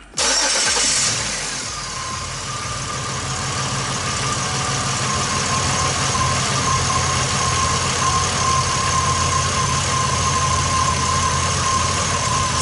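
A 2003 Chevy Impala engine cranks and fires at once, then settles into a steady, loud, close idle that continues unchanged, during a fuel pump and relay bypass test.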